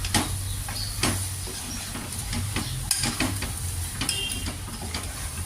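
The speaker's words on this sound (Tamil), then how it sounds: "லைட்டாக கிளறி விட்டுக்கலாம்" Kurma gravy stirred in a pan as its bottom starts to catch, with steady soft sizzling and irregular scraping clicks of the spoon against the metal, close and fairly quiet, without speech.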